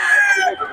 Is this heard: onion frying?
no